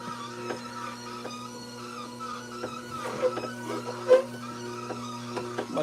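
Electric juicer processing unpeeled apples: a steady motor whine and hum runs throughout, with irregular crunching and grinding bursts as the fruit is fed in, close and fairly loud, with no talking.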